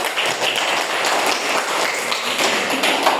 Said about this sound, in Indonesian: beri aplaus untuk hasil presentasi kelompok Axel